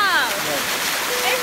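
A constant rushing wash of falling water from a waterfall, moderately loud and even, with someone talking over it.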